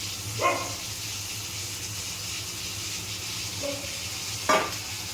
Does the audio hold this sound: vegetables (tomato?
yes